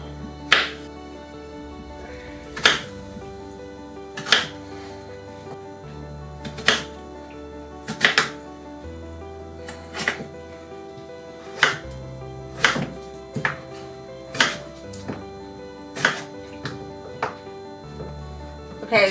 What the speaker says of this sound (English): I'm gonna continue cutting up these fries